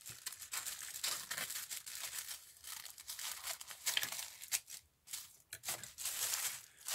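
Scissors cut up crinkly tissue-paper wrapping close by, with repeated snips, rustles and crackles in an uneven rhythm and short pauses between cuts.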